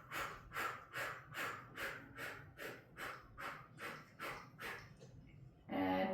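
Rhythmic, forceful exhales during a core workout, about ten sharp breaths at a steady pace, close and fairly quiet, followed by a brief louder sound at the end.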